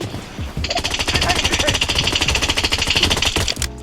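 Rapid automatic gunfire in a ranked online shooter match, a loud sustained burst of closely spaced shots lasting several seconds, with excited player voices around it.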